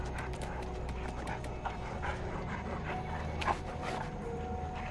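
A dog panting in the Dead by Daylight game, rapid soft breaths under a dense, steady bed of game ambience and music, with faint scattered clicks.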